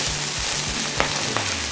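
Home-grown kailan greens fry in a hot pan for fried rice with salted fish, giving a loud continuous sizzle with sharp crackles and pops close by.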